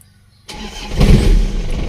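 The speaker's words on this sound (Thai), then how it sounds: "สตาร์ตตอนเช้านะครับ เราจะสตาร์ตติดง่ายดูกันหน่อยนะครับ" After a short silence, an Isuzu TFR pickup truck engine cranks and catches on a morning start, settling into a loud, rumbling idle close by.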